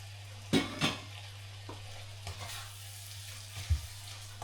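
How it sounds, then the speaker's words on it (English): Shrimp dropped into spicy garlic butter in a pan for a seafood crab dish, giving a steady soft sizzle with a few sharp clatters of food and utensils hitting the pan, with no talk. "then we're gonna put our shrimp there"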